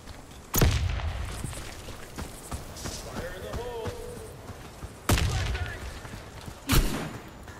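A frag grenade explosion in the shooter Warface lands as a sharp, heavy boom, with further booming impacts following later amid background battle noise and some voice chatter.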